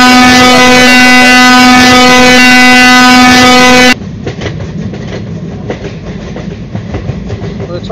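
A double-decker express train runs in Train Simulator, a loud steady engine drone with strong tonal hum that cuts abruptly to a quieter rolling rumble with rhythmic clatter of wheels.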